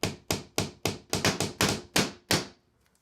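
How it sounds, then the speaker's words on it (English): Hammer taps driving very small panel board nails into wooden quarter round trim during a laminate floor install, about ten sharp, close blows in a steady rhythm, then silence. "I'm going to use these very small panel board nails and go ahead and nail this on."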